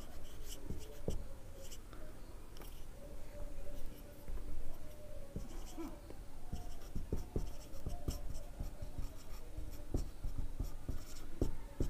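Chalk or marker writing on a board during a Class 10 inorganic chemistry lesson: sporadic scratching strokes and taps, close and fairly quiet, with light room noise between them.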